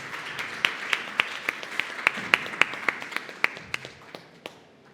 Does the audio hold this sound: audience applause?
yes